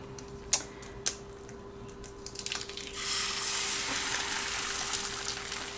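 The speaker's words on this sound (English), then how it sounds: "let's crack an egg in it" An egg is cracked into a hot DASH Multimaker Mini Waffle Cooker. A few sharp taps and crackles come first, then a steady, bright sizzle rises and holds close by.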